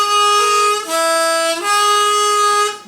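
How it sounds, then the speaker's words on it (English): A cheap diatonic harmonica played with air audibly leaking past the reeds, giving a breathy, buzzy tone: three sustained close notes with two clear pitch changes, loud and steady with no talking. "where you can hear as much of my breath as you can the reed vibrating"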